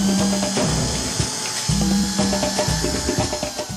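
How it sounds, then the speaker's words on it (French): A power drill bores holes in the plastic lid of a vermicomposter bin, whining loud and close in short bursts that rise and fall, with a brief pause between holes. "On commence par percer le couvercle."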